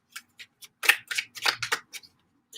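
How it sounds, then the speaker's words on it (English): Tarot cards are shuffled by hand in a burst of crisp, papery riffles and snaps, some isolated and some in quick clusters, close and fairly loud with no voices. "even as shuffling the cards"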